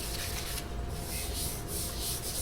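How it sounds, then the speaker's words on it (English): Continuous close scratchy rubbing of sandpaper over a guitar's super glue finish, steady and fairly quiet, with rhythmic back-and-forth strokes. "sanding out something that's flat is much less of a challenge than sanding out a guitar"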